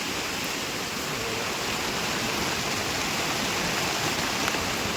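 Heavy rain drums steadily on a plastic-sheeted tent pitched beside a stream during a night of camping, a dense, even hiss that stays loud and unbroken from start to finish with no talking.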